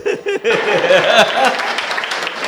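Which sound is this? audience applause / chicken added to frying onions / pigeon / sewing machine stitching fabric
audience applause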